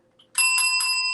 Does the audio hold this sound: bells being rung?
yes